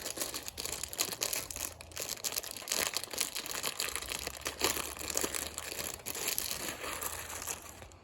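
Garden tape being pulled and unrolled for staking heavy tomato plants, a close, continuous crinkling and crackling texture with sharp tearing bursts throughout.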